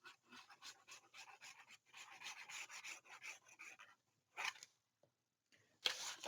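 Paper being burnished flat by hand over a folded hinge on stacked folio flaps, a dry rubbing rasp in repeated close strokes with short pauses and a few sharper bursts near the end.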